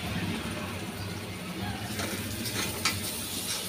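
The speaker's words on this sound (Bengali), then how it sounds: "এবার মশলা কষানোর পরে দিয়ে দেব জিরা আর ধনিয়া 1 চামচ" Spice paste with cumin and coriander sizzles steadily as it fries and is stirred in a pan, a close, continuous crackle with a few sharper scraping accents near the end.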